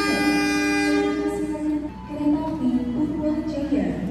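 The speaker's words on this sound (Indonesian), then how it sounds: "ada kereta api Batavia yang akan masuk jalur 4 sebelah sini teman-teman" A Batavia passenger train pulls into platform 4 at a large, busy Purwokerto station, with a loud, sustained horn blast over the rumbling rail noise and some voices nearby.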